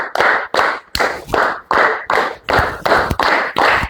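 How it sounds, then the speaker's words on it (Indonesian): Children clap in unison in a classroom, a close, loud group of clean hand claps in a steady rhythm of three quick sets, with no talking. "tepuk 5 3 kali"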